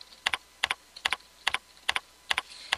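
Computer keyboard typing in a series of quick paired keystroke bursts, roughly evenly spaced with short pauses between, crisp and close with no voices.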